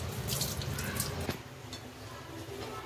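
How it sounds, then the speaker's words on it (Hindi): Water drained out of a pot of boiled water while cooking biryani: a steady, close pour and splash into a sink for about three seconds, continuous and fairly loud, with no talk. "ये वाला पानी पूरा हम यहाँ पे निकाल देंगे"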